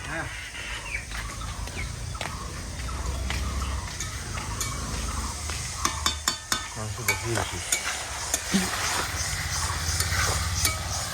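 Meat stirred and fried in a pan with ground garlic, ginger, cumin paste and dried chilies, a steady sizzle broken by rhythmic scraping stirs, with voices talking and chickens clucking nearby outdoors.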